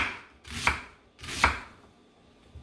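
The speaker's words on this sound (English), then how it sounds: "slice thinly" A knife slices thinly through an onion for a Thai chicken and basil stir-fry, making two crisp, close cuts about a second apart, each with a sharp crunch that ends in a board tap.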